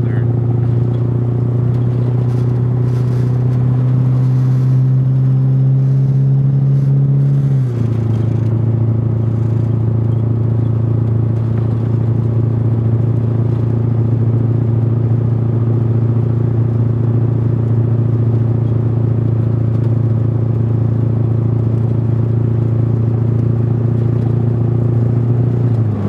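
A diesel car burning a waste oil blend cut with 35% gasoline drones with a steady engine hum and road rumble throughout, its pitch dropping once as it shifts, loud and continuous under a speaking voice.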